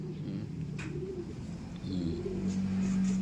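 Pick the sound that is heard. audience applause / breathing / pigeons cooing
pigeons cooing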